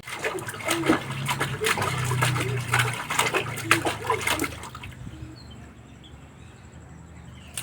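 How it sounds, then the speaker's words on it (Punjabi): Water splashing and sloshing with a voice over it for several seconds, then it quiets to soft trickling and background noise. "ਅੱਜ ਨੂੰ ਪੂਰਾ ਇੱਕ ਘੰਟਾ ਮਸਤੀ ਕੀਤੀ ਪਾਣੀ 'ਚ"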